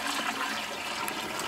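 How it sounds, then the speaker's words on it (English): Plain water poured into clay in a container to mix it into a soupy slurry, a steady rushing, splashing pour close by and continuous throughout. "I'm gonna mix it into this clay and bring it into kind of a soup"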